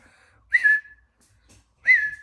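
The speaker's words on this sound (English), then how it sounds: "People say, how do you whistle like that?" A person whistles outdoors in two short, loud, clear bursts a little over a second apart, each a bright sliding note, with near silence between them.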